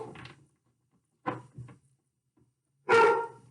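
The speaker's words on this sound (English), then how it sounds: "See how long this barking goes." A dog barks in three separate bursts with quiet gaps between them, the last bark the loudest and fullest, heard alone without talk.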